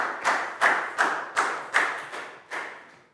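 Classroom applause for a student in a Year 4 maths lesson, a small group clapping in about seven loud, rhythmic, unison claps spaced roughly half a second apart.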